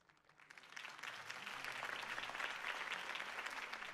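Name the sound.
crowd applause in Telltale Batman video game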